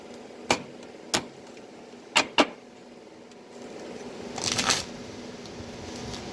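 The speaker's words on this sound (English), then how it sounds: "one more shuffle" Tarot cards being shuffled by hand: four sharp riffle snaps spaced over a few seconds, then a longer, softer rustling burst of cards sliding together, close and clear against a quiet room.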